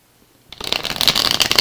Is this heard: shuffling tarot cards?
yes